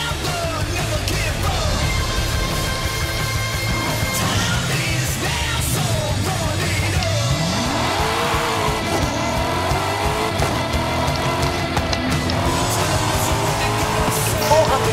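Racing in the video game Forza Horizon 5: a steady, loud engine drone with a rising then falling pitch sweep partway through, tire squeal, and game music running throughout.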